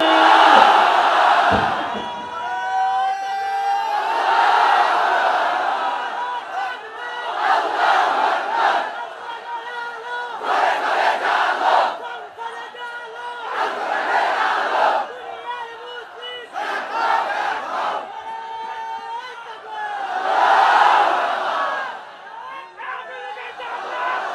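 A mass of worshippers at an Islamic waz gathering answers a takbir call with Allahu Akbar, chanting together in loud, recurring surges that rise and ebb over the whole stretch.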